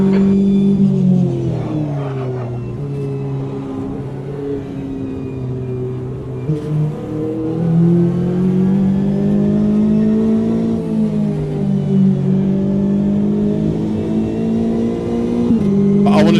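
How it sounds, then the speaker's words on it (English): Corvette GTE race car engine in the Automobilista 2 racing sim, a steady low, throaty drone with gently rising and falling revs throughout, carried under a voice talking over it. "Oh, that Corvette sounds nice."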